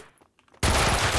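After a quiet half-second, a weapon in Max Payne 2 opens up in a sudden loud burst of rapid gunfire that continues unbroken to the end.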